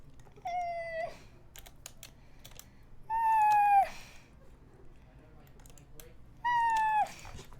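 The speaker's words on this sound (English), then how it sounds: "We have a cat. You could hear her chirping at us." A pet cat makes three separate chirping calls, each a short rising-falling trill with clear gaps between them, heard close over faint keyboard typing in a quiet room.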